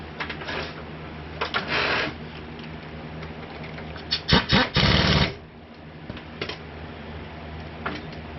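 A small power tool on its lowest setting drives a 10mm bolt during front strut work on a 2016 GMC Sierra, with brief whirring bursts, one longer buzz midway, and light clinks in between.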